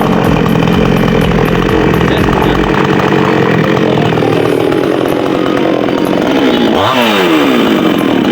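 Chainsaw running loud and steady just after a new switch was fitted, its buzzing two-stroke drone holding throughout, with a brief rising rev near the end and no talk.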